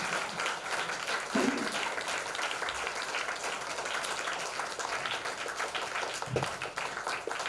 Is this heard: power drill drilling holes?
no